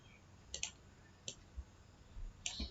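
A ceramic disc capacitor's legs are pressed into a breadboard, giving three sharp, close clicks spaced apart, with quiet room hiss between them.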